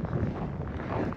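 Strong wind buffeting the microphone on the Yenisei river embankment at Divnogorsk in February, a brief loud rumbling gust with no voices.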